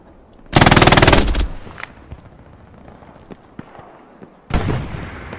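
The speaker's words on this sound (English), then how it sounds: "Three more rounds coming in, 20 seconds." Incoming artillery strikes land in Hell Let Loose on the El-Alamein battlefield, a loud rapid burst of crackling blasts followed by quieter scattered pops, then another heavy blast near the end.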